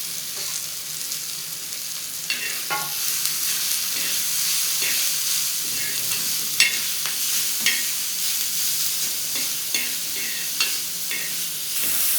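Garlic and chili paste fries over softened tomatoes with a steady, close sizzle, and scattered clicks and scrapes from stirring run throughout.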